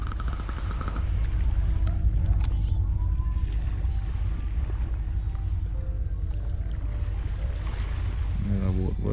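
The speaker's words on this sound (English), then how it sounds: "Another boat going out there." A small boat heads out on the water in a coastal birdwatching spot, a steady low engine-and-water rumble under wind, with faint distant voices and bird calls.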